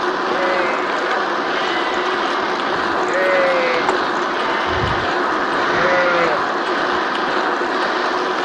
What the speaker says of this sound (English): Some very noisy sheep in the field next to me